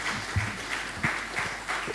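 An audience at a live educational broadcast claps at a moderate level, with a few louder individual claps standing out from the group.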